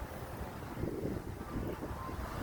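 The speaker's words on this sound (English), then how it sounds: "Thank God for this wind right now." Wind blows outdoors, a steady low buffeting rumble of gusts against the microphone that swells slightly and continues throughout, with no other clear sounds.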